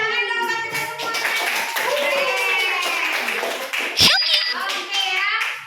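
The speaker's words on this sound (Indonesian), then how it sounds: "Tepuk tangan dong buat kita semuanya." Classroom clapping for pupils during a puberty health lesson, a scattered burst of hand claps mixed with children's chatter and a teacher's voice throughout.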